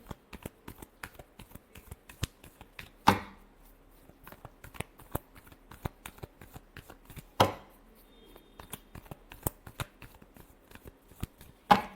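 Tarot cards being shuffled by hand: a steady run of crisp riffling flicks and soft slaps close up, with a couple of louder bursts where the deck is bridged or squared, no talking.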